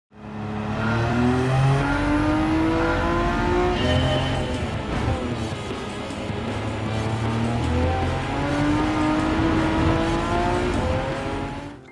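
A Ruf CTR Yellowbird races in Gran Turismo. Its engine revs loudly and continuously, with climbing pitch sweeps through the gear changes and brief tire squeal, heard close and alone.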